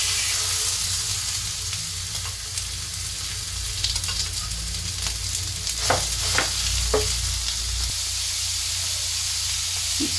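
Ground pork frying in a pan with garlic and onion gives a steady, close hiss and sizzle, with a few faint scrapes of stirring and no talking.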